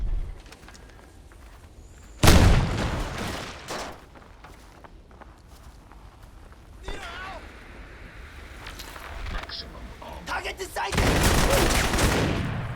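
Gunfire and explosions in the Crysis video game: loud broadband blasts burst out at intervals between quieter stretches of rustling movement and scattered shots, with a long roaring explosion at the end.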